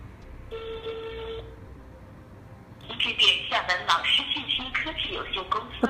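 A single ringback tone sounds for about a second on a mobile call to a Yeastar phone system trunk, then a recorded IVR voice prompt starts speaking over the line.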